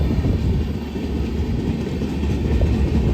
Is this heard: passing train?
yes